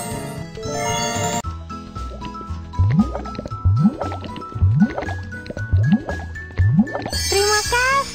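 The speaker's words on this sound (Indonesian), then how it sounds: "Dapatkah kamu isi penuh bensinnya?" Cartoon car being filled with petrol in a children's game: a chiming, bubbly run of rising glugs repeats about five times at a steady beat over bright background music.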